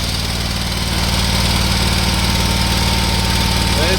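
An Exmark lawn mower engine that had been locked up runs steadily after repair, a loud, even drone with a low pulsing throb, close by and uninterrupted.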